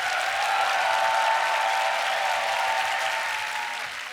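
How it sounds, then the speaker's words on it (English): An audience at the Grand Beatbox Battle 2023 gives sustained applause for the tag teams, a broad even roar of clapping hands that slowly fades toward the end. "I want to get a huge round of applause for every tag team that was on this stage."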